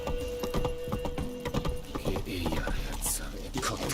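A horse's hooves clip-clop in a quick uneven rhythm as it is ridden in The Witcher 3 video game, close and moderately loud, mixed with faint game ambience.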